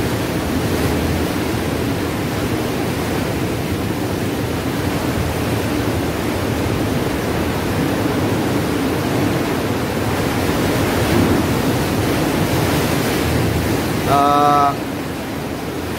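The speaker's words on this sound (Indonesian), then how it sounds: "Di sini dihadang oleh ombak-ombak besar." Large sea waves surge at the entrance of a coastal sea cave on a rocky beach, a dense continuous roar of surf close to the microphone, with a brief faint tonal sound near the end.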